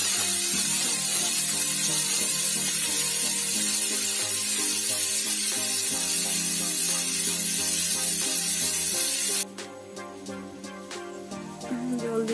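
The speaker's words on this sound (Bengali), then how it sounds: "দেখুন কুকারটা সিটি করে গেল" A pressure cooker with khichuri inside hisses loudly and continuously as it releases steam, then the hiss drops away abruptly and quieter kitchen clatter follows.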